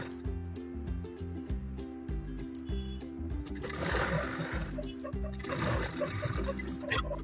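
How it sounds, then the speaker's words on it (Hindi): A sewing machine stitches fabric for a princess-cut top, giving a close, steady mechanical chatter of repeated needle strokes with brief pauses and a busier rustling stretch in the middle, no talking. "थोड़ा सा खींच के यहाँ पे सिलाई करते हैं ताकि ये जो कपड़ा है वो सेट हो जाए"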